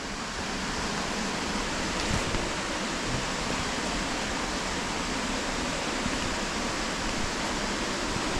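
Waterfall at Stainforth heard from close by beneath the falls: a steady, broadband roar of rushing water, even and unbroken throughout, moderately loud with no other sounds standing out.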